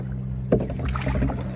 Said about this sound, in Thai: อันนี้กำลังพายเรือเข้าบ้านนะคะ